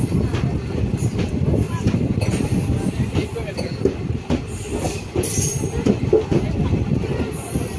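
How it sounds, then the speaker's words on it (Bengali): Intercity Express train 15603 from Guwahati to Ledo rolls on rails, heard steadily from on board, with continuous wheel rumble, rhythmic clicks and occasional squeal, and voices murmuring in the background. "এখন ট্রেন ঢুকছে নামরূপ রেলওয়ে স্টেশনে,"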